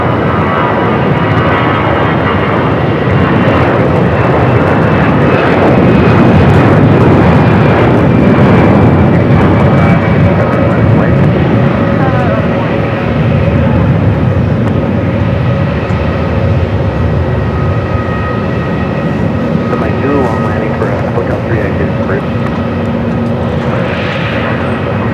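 A jet airliner takes off from runway 25 right at Phoenix Sky Harbor, a loud, sustained engine roar with steady whining tones that holds strong for the whole stretch, heard from nearby with no voices.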